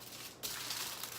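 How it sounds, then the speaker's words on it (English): Tin foil crinkles steadily as a homemade mint chocolate is wrapped, a sudden onset of close, bright rustling that continues evenly to the end. "You can just from there take it right to some tin foil,"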